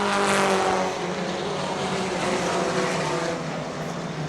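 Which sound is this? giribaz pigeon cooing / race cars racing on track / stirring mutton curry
race cars racing on track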